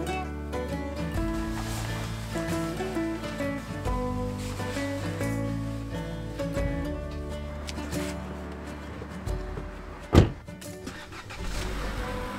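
Rental car driving toward Omberg in the Swedish countryside, with a steady low engine drone and road rumble running throughout, one sharp knock near the end.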